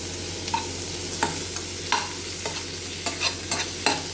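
Chili powder and fennel powder are sautéed in a pan, with a low sizzle under regular, close spoon scrapes and taps roughly every half second. No one speaks.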